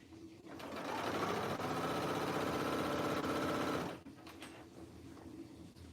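A sewing machine stitches through three layers of fabric for a dress, a steady loud whirring run for about three seconds that stops abruptly, followed by quieter handling sounds.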